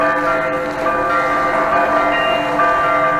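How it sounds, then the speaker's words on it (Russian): Transfiguration Church bells ringing in a winter town, a dense, sustained peal of overlapping bell tones resonating steadily at moderate distance without talk. "Колокольный перезвон Преображенской церкви"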